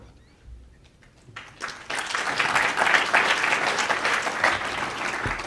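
Applause swells from a quiet room into sustained clapping from a sizeable crowd, holding steady for several seconds.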